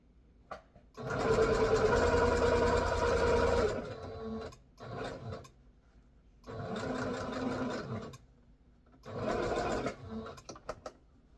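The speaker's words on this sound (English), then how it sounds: "For this one, you are going to just sew the whole thing." A sewing machine stitches fabric with shirring thread in three loud, steady whirring runs separated by short pauses, heard close and alone with no talk.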